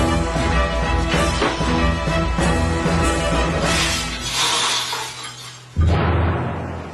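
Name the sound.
stuffed toy pig falling through and shattering panes of glass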